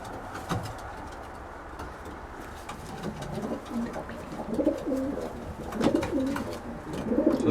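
Pigeons coo in a loft, soft rolling calls repeating several times, growing clearer and closer toward the end over a faint background hum and rustle.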